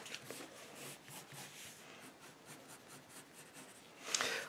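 A pencil scribbles steadily across paper, coloring in a blue eye on a puppy drawing, with close, soft scratchy strokes in a continuous rhythm and a brief harder burst near the end.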